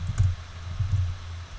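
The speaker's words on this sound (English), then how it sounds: "My typing's horrible." Someone types on a computer keyboard in a few quick, soft clicks and taps over a low background hum, close by and without talking.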